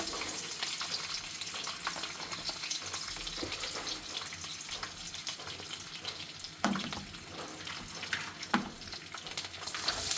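Dried red chillies, garlic and onion fry in a pan with a constant hissing sizzle, a few sharper scrapes and clinks of stirring near the end, nobody speaking.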